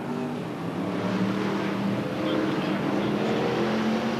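BriSCA F1 stock cars race around an oval at Northampton, several engines droning and revving together in a steady, continuous roar at moderate distance.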